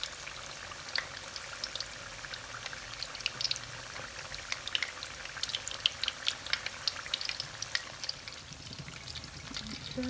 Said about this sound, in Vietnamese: The spring roll are frying now.